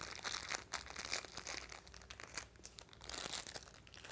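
Small plastic bags holding paper pizza-book pieces crinkle and rustle continuously up close, a dense crackling with brief pauses and no voices.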